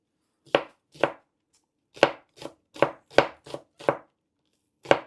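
Green onions chopped with a knife on a cutting board for yakisoba, about ten crisp, separate chops in an uneven rhythm, close and fairly quiet with no talk.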